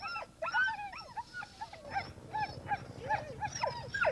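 Many Greenland sled dogs in harnessed teams, eager before a seal hunt, yip, whine and bark in repeated overlapping bursts throughout, fairly close, with no talking.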